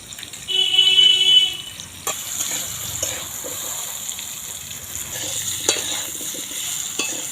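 Potatoes stirred and frying in a pan, a steady sizzle with occasional scraping stir strokes close by. A brief horn-like tone rises in the first couple of seconds, and no one speaks.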